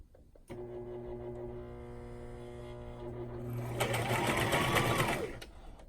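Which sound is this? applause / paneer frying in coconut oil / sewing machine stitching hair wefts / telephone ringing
sewing machine stitching hair wefts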